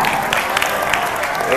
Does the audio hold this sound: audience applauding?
yes